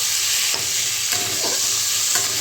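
Paneer masala with fennel, simmered with small splashes of water, sizzles loudly and steadily in a pan while a spoon scrapes through it in several distinct strokes, with no voices.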